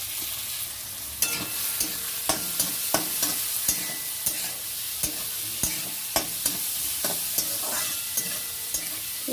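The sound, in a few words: onion frying with fried eggs in pan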